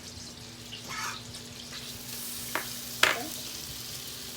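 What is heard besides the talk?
garlic butter and broccoli sizzling in a pan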